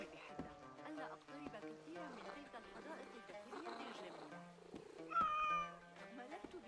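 A cat in the video game Assassin's Creed Mirage meows, a short rising cry near the end, while a person talks over game music and ambience throughout.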